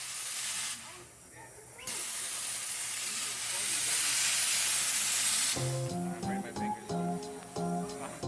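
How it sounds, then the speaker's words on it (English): A steam cleaner hisses in a long, loud continuous blast while cleaning a gold Cuban link chain after polishing, with brief pauses, followed by a few short clinking metallic notes near the end. "The last step is the final steam."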